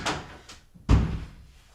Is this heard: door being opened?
yes